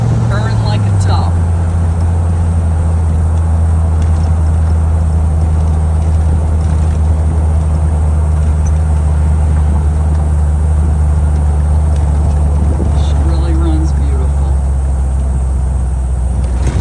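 A 1981 Glassic Replicar Model A Phaeton drives along a road with a steady, low engine drone and constant road and wind noise, while faint voices occasionally sound over it.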